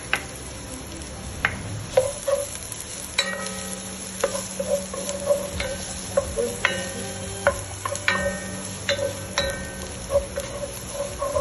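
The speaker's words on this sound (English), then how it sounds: "she want me to saute it. So why not? Putting in the onions first." Onions sautéing in a pan for a Jamaican banana blossom dish, a soft steady sizzle punctuated by frequent sharp clicks and scrapes of stirring, close and moderately quiet with no talk.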